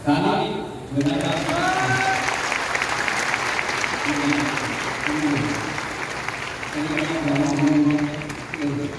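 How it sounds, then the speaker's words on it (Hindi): An audience at a health event with a state minister as chief guest claps in sustained, loud applause that starts abruptly after a brief voice and continues throughout, with talking heard intermittently over it. "ताली बजाना"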